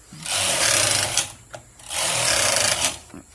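Two long rattling mechanical passes of a Toyota knitting machine carriage with ribber attached, loud and close, separated by a brief pause with a few clicks.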